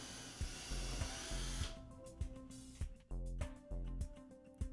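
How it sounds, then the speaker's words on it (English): A power drill bores 3/8 inch holes through a door, its motor whining in repeated short bursts with brief pauses between, close and fairly faint. "Drill 3/8 of an inch holes completely through the door."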